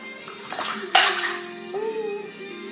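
Water splashes and pours into a pan with a brief bright gush, followed by a rising tone like liquid filling, close by and moderately loud.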